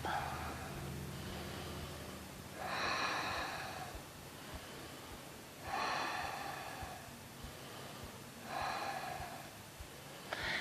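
Slow, deep breathing during a stress-relief yoga session, with long audible inhales and exhales in a steady unhurried rhythm, soft and close over faint room noise, no speech.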